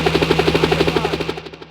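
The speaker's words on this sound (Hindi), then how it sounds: "हेलीकॉप्टर लेके आओ।" Helicopter rotors chop in a fast, even series of loud thumping pulses with a steady engine drone underneath, close by and gradually fading toward the end.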